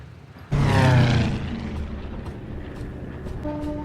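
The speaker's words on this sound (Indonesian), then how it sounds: "Danny CS dibangunkan oleh suara pesawat tempur yang mereka pikir itu adalah latihan dari tim angkatan laut" A fighter jet sweeps low overhead in a film, arriving with a sudden loud roar that peaks and then fades into a sustained rumbling drone, with no speech.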